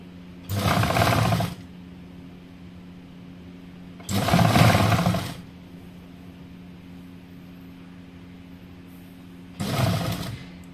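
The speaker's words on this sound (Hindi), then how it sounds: "अब इसके ऊपर फिर सिलाई चला लें, ऐसे पूरी गोलाई में बाजू को सिल देंगे।" Sewing machine stitching a sleeve into a kurti, three separate bursts of rapid whirring stitching about a second each, loud and close, with quiet hum between runs.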